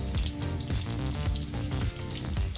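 Potato pieces fry steadily in hot oil seasoned with salt, chili powder and turmeric, a continuous close sizzle with soft crackles and no voices.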